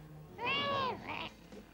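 One close, high cat meow that bends downward, followed by a brief softer chirp.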